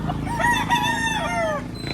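A roughly one-year-old rooster crows once, loud and near, at a busy live poultry market in Lipa, Batangas, with a steady crowd murmur beneath.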